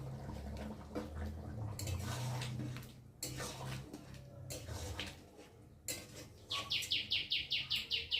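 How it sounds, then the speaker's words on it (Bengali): A bird calls in a series of rapid, bright chirps near the end, heard close over a quiet home kitchen with faint clinks of dishes and utensils earlier. "পাখি আবার খড় খড় করে পাখি ডাকছে"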